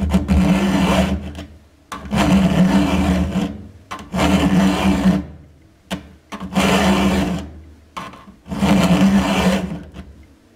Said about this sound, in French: je vais le vider assez lentement pour bien voir le travail de la lime sur cet angle